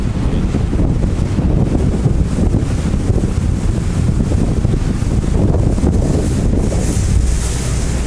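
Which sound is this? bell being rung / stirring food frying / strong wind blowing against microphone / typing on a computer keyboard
strong wind blowing against microphone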